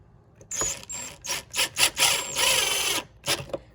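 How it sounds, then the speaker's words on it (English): Bursts of a power drill whirring in short runs, drilling screw holes to add pig rails to a vinyl whelping box, with gaps between, fairly close and loud. "I'm just gonna drill holes there"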